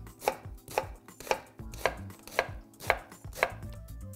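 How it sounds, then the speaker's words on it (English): A knife chops steadily through an onion on a cutting board, producing about eight evenly spaced, crisp thuds close up, with no voices. "Then you're going to turn it and make vertical slices."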